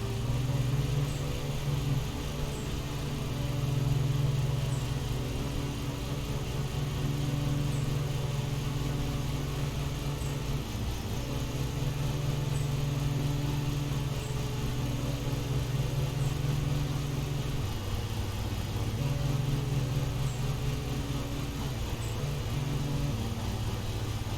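Small lawn mower engine from Lawn Mowing Simulator, already carrying engine damage, running steadily at a constant drone for the whole stretch with slight dips in pitch, loud and close with no talk.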